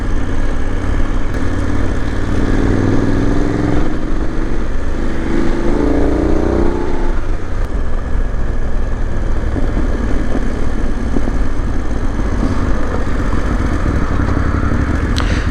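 A BMW 750GS motorcycle riding through Pereira city traffic, its engine a continuous loud mid-range drone with a rising rev sweep early on, surrounded by dense street noise and wind.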